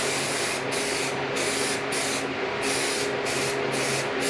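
Spray adhesive hisses from a can onto a car door panel of an 88 Ford Festiva, a close, loud, continuous spray broken by several short pauses in a rhythmic series of bursts.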